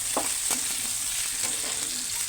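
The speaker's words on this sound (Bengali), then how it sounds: "তো আলুটা ভাজা হবে, তো এর মধ্যে আমি চিংড়ি মাছটাও দিয়ে দেবো। সব ভাজা ভাজা হোক।" Potatoes and shrimp frying together in a pan, a loud, close, steady sizzle with a few soft stirring scrapes, no voices.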